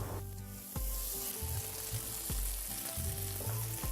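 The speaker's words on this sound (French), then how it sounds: "Un tagine bien chaud sur le feu, de l'huile d'olive et une noix de beurre." Olive oil and a knob of butter sizzle loudly in a hot tagine on the heat, a dense crackling fry with bursts of louder spitting as something is stirred or added.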